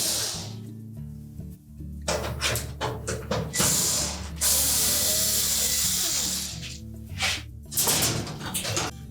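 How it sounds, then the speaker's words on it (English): Screws are backed out of the control console of a Frigidaire range, giving close ratcheting clicks from a driver and metallic rattles, in a busy run of repeated mechanical bursts with brief pauses. "next we'll remove all 4 screws that secure that control to the"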